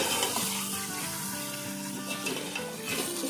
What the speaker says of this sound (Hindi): चिकन को फ्राई करते हुए हम आंच को थोड़ा सा तेज रखेंगे ताकि चिकन अपना पानी ना छोड़े।